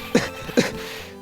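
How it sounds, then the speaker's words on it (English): A fake double cough from the courtroom game Phoenix Wright: Ace Attorney, two short, sharp, close bursts about half a second apart. "could that stupid cough possibly sound any phonier?"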